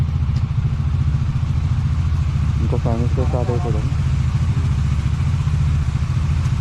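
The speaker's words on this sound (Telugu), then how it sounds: "బైక్స్ అని వార్మప్కి పెట్టినాము" Two 200cc motorcycles idle at a steady, low rumble while warming up before a group ride. Someone talks briefly over the constant engine drone.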